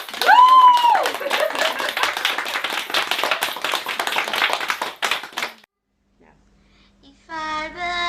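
A crowd claps briskly at a celebration of cultures, the dense clapping opening with a high whoop and running for about five seconds before stopping, followed by near silence and then a voice.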